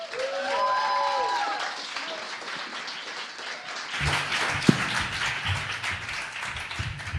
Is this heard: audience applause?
yes